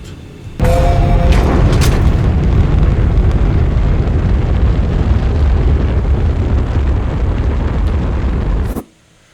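A rocket launches in the space game Astroneer, a loud, sustained roaring rumble that bursts in abruptly, holds steady for about eight seconds and then cuts off sharply.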